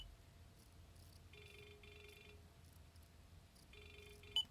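Radio ringtone of a 2014 Toyota Camry SE plays a soft electronic chime in two brief pairs of beeps separated by a pause, very faint over low background hum, with a sharp click near the end.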